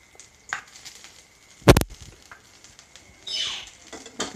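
Suji cheela fries in white oil in a pan: a soft sizzle swells briefly, preceded by a sharp clatter, with faint crackling in between and no talking.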